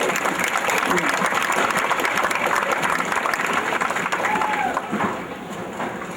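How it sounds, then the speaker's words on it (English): An audience at the North Reading Relay For Life event claps steadily and loudly, a dense wash of hands that thins slightly toward the end, with faint voices mixed in. "If you really want to clap, go right ahead."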